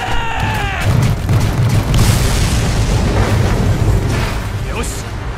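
Heavy cannon fire booms loudly against a titan in the Attack on Titan 2 video game, a dense sustained rumble of blasts with a sharp onset, while voices speak over the barrage.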